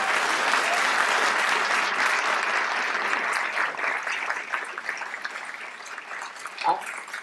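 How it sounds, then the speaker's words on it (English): A town hall crowd gives City Attorney Michael Gates a big round of applause, a loud, thick wash of clapping that holds steady and then gradually thins toward the end. "let's give Michael Gates a big round of applause"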